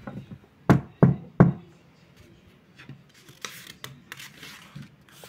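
Three loud, quick knocks sound close together, followed by quieter rustling and faint taps.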